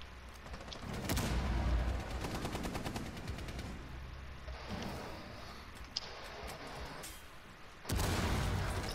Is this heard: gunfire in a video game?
yes